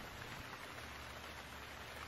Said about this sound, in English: Yeah, it's supposed to rain all day.